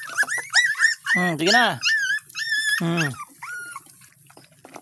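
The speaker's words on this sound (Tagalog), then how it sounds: "Aso na yung pinakain natin. Ay mga tuta pala." Several puppies being fed milk in the morning in a rural setting, whimpering and yipping in high, wavering cries close by, with someone speaking briefly among them.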